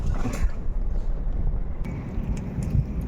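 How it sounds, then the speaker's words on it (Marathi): A boat moves across cool water on a crab-catching outing, its steady low engine-and-water rumble constant throughout, with wind buffeting the microphone and a few faint splashes toward the end. "आम्ही आता चालला आहे बोटीवर"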